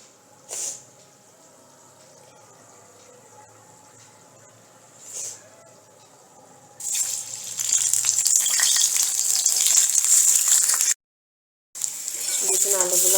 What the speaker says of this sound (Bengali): এখানে আমি 3টে আলু ফুড কালার দিয়ে সেদ্ধ করে রেখেছিলাম, এটাই কড়াইতে একটু ভেজে নেব।